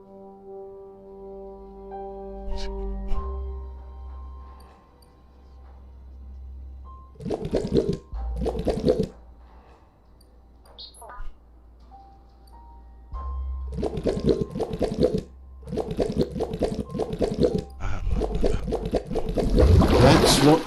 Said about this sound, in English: You need to unturn the pipe tighteners to drain the flush stool.